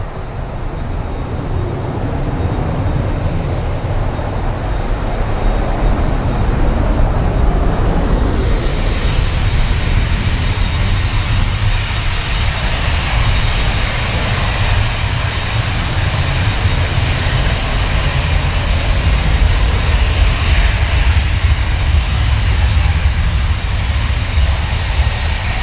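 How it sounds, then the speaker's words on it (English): A Virgin Atlantic airliner powers down runway 23 left at Manchester Airport on departure, a loud sustained engine roar with a deep low rumble heard steadily from a distance for nearly half a minute, with no talking. "Virgin Atlantic powers down 23 left for departure."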